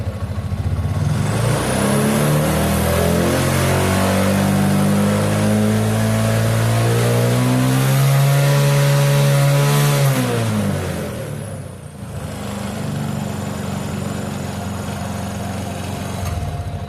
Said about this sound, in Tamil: இப்போ நான் ரேஸ் பண்ணுறேன்.